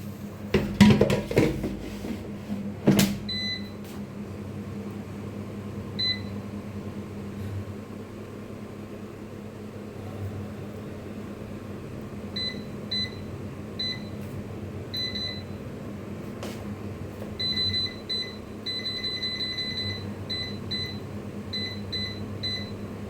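An air fryer cooking luchi hums steadily for the whole stretch, broken by a few knocks early on and by bursts of short electronic beeps that repeat later.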